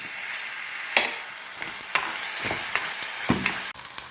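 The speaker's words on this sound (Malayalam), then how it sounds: "ഇനി നമുക്ക് ഒരു തക്കാളി ഞാൻ അരിഞ്ഞു വെച്ചിട്ടുണ്ട്, അതുകൂടി ഇതിലോട്ട് ഇടാം." Chopped tomato sizzles in a pan of sautéing shallots, a steady close frying hiss broken by several sharp stirring clatters and bursts of spitting oil.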